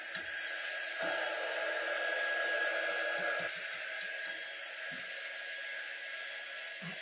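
A hair dryer blows steadily to dry paint jars, a constant close whirring rush that lasts throughout with no pauses.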